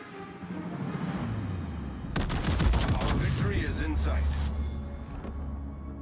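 Warship gun salvos boom in a naval video game, a dense burst of several overlapping heavy shots followed by rumbling echoes, loud over a steady engine drone, with a voice talking over it.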